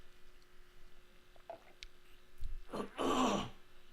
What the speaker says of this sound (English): Sorry for clearing my throat in everyone's ears.